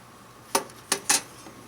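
Small metal dish and parts of a budget stick stove handled close up, three light metallic clinks, the last two quicker together, with no talking.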